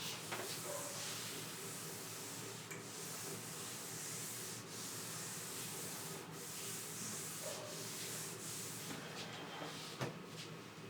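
Writing on a classroom board is rubbed out with steady, continuous scrubbing strokes, a faint dry swishing that repeats with a few sharper taps and knocks mixed in.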